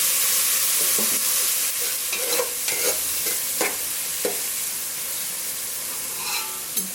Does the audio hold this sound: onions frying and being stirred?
yes